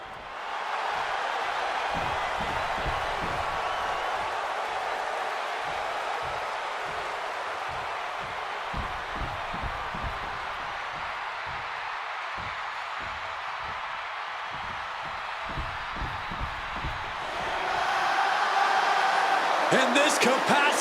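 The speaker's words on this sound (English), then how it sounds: "And this capacity crowd just exploded" A capacity arena crowd in a WWE 2K26 wrestling match between CM Punk and Seth Rollins roars continuously, a dense wash of cheering with rhythmic stomping or clapping beneath that swells louder near the end.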